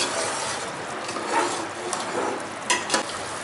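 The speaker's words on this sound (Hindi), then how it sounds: "अब इसमें ऐड करूँगी चावल, इसको मिक्स कर लूँगी।" A pot of mutton pulao being stirred after rice is added, giving a steady close scraping and sizzling texture with a few sharper utensil knocks near the end, no talking.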